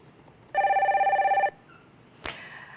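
A telephone rings once for a viewer call-in on a stock market TV show, a bright electronic trill lasting about a second, then a short sharp click as the line is picked up.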